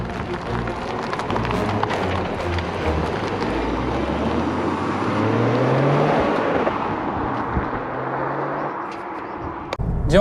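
Toyota Yaris GR driving through a city center, engine note rising and falling with revs over steady road noise, a clear upward sweep midway, ending in a brief clatter.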